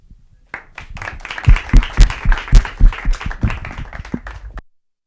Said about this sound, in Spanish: Démosle un gran aplauso como se merece a Claudia Ivette Pedraza Bucio